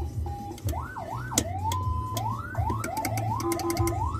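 Rapid electronic ambulance siren whoops and yelps sweep up and down, layered with short warning horn blasts over a steady engine rumble.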